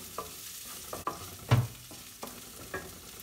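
Chilies frying in a pan for cauliflower upma while being stirred, with a soft sizzle broken by several sharp scrapes and knocks of the spoon against the pan at uneven intervals.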